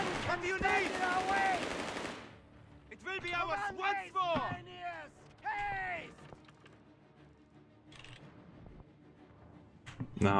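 Machine gun fire in a Company of Heroes 3 multiplayer battle, with rapid bursts of shots among clanking gear and battle noise, loud and near, and voices under it.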